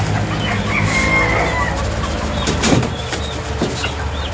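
Chickens at a backyard gamefowl yard clucking and calling amid a busy, noisy outdoor background, with a few sharp scuffling sounds as birds peck and spar, plus faint voices and passing vehicle noise.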